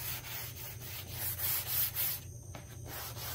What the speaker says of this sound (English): A little sanding all over.